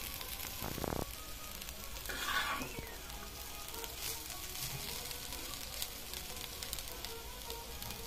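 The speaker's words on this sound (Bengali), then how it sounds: "আলু ভাজি প্রায় হয়ে গেছে বা হয়ে যাবে" Potato bhaji hisses and sizzles steadily in a pan, with a brief clatter of stirring near the start and a louder burst of crackling partway through; no voices.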